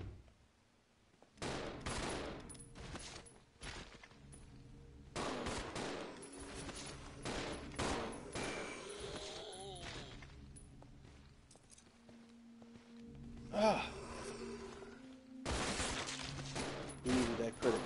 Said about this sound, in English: We're just going to start shooting right away.